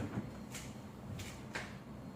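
A kitchen drawer slides open with a few short scraping, rattling bursts, close and moderately loud in a quiet room.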